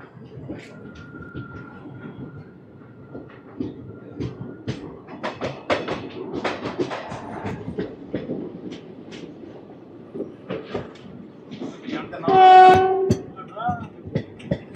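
The Narasapur Express passenger train (17248) rumbles and clatters steadily along the track after leaving Srikalahasti, India, with voices murmuring over it and a brief horn-like tone near the end.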